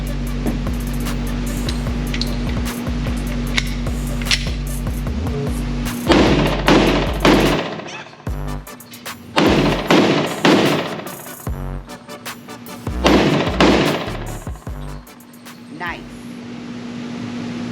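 A Glock pistol fires .357 SIG rounds at a range. The shots come as sharp, loud cracks, several in quick strings with pauses between the strings, and a steady background hum runs underneath.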